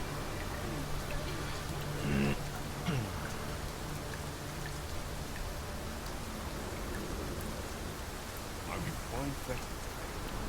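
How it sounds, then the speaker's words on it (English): Steady, heavy rain from the video game Dragon's Dogma 2 hisses evenly throughout at a soft, constant level, with a couple of faint tonal blips early on. "It is raining cats and drakes."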